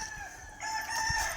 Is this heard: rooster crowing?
yes